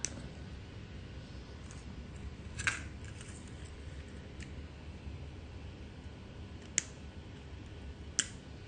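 Thin 24 gauge jewelry wire snipped with cutters, giving a few sharp, faint clicks spaced seconds apart over a quiet, hissy room.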